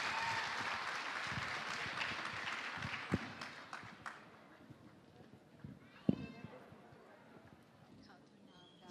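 Audience applause at a Yalda night poetry gathering: a dense, steady clapping crowd for several seconds that thins and fades, broken by a few sharp knocks, with voices murmuring underneath.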